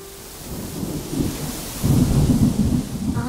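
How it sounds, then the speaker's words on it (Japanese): Thunder and rain in a PS5 video game: low rumbling thunder rolls in and swells louder over a steady hiss of falling rain, with no voices. "雨が降りそうね。"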